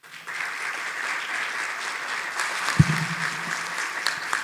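At a sickle cell disease therapeutics summit, an audience applauds steadily for several seconds, a broad wash of many hands clapping that holds its level, with a single louder thump partway through.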